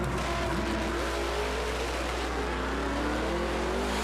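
Stick shift drag race cars at a grudge race launch and accelerate hard, a loud roaring engine surge with rising revs and shifting tones filling the whole stretch, close by and with no talk.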